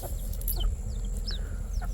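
Chickens cluck and chicks peep in short, high chirps at a rural home where jungle-fowl crosses are kept, with the calls scattered over a steady low rumble of background noise.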